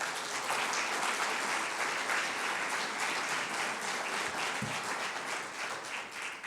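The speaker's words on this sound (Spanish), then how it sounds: "¿Le pueden dar un aplauso al Señor por las pruebas?" A church congregation claps in praise during a Spanish-language sermon, a sustained wash of many hands at moderate distance, fairly faint and even, with no speech over it.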